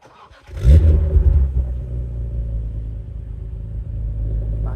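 A BMW E-series engine cold start: a brief cranking whir, then the engine catches with a loud, flaring rev and settles into a steady, rumbling fast idle up close, with no talk.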